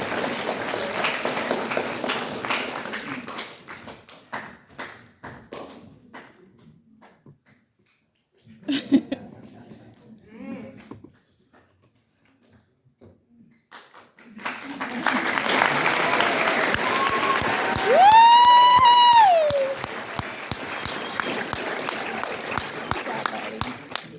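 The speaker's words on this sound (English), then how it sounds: "let's give our seniors one more round of applause" A crowd at a graduation ceremony applauds the graduating seniors with sustained clapping, then a lull and quiet stretch, then a second loud round of applause mixed with cheering and a whistle.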